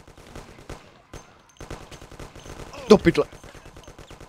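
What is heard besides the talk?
gunfire in the video game Mafia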